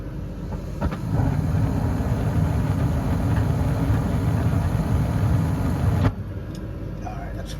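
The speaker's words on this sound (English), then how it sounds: "The gas valve should kick on." A home heating furnace's gas valve opening as the burner lights, a steady broadband rushing roar starting abruptly and holding for about five seconds before cutting off sharply.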